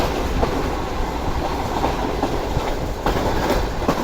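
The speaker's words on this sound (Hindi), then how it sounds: "यस, ट्रेन खड़ी हुई है।" Pak Business Express train at Liaquatpur railway station, a dense, loud rolling rumble with rhythmic clickety-clack of wheels over rail joints, steady throughout and without speech.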